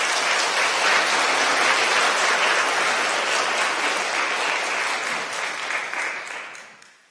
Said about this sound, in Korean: 여러분들 인사드릴 때 환영의 박수 부탁드리겠습니다.